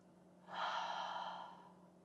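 One slow exhale comes during a guided progressive muscle relaxation exercise. The soft breath rises suddenly, holds for about a second and fades away in a quiet room.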